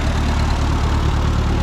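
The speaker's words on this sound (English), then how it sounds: "this is my 8N Ford tractor" A Ford 8N tractor fitted with a Ferguson cultivator idles with a steady, close, low engine drone and an even throbbing rhythm, with no talking.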